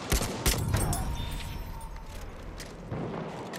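General Liu Rifle gunfire in Battlefield 1 on the Tsaritsyn map: a few sharp close shots at the start, then a dense, rumbling battlefield wash of distant fire and booms, with brief muffled voices.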